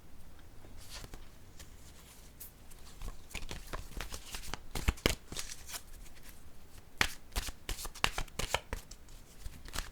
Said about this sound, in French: Je vais piger maintenant une carte, un message de l'univers.